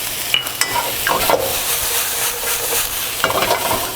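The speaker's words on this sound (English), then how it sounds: "You want to continue to hear that sizzle." Green peppers sizzle in oil in a frying pan for beef fajitas, a loud, steady hiss broken by a few clinks and scrapes as they are stirred around.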